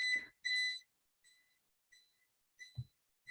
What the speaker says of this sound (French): Un petit bip-bip que ma table fait.